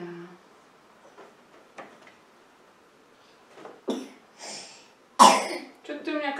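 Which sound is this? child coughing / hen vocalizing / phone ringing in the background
child coughing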